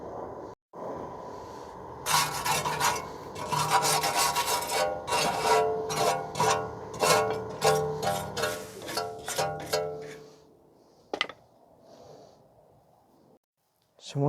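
Rust is scrubbed off the rear brake hub of a 2016 Ford F-150, a close, rhythmic run of rasping strokes that gradually slows, ends with a sharp scrape, then falls quiet.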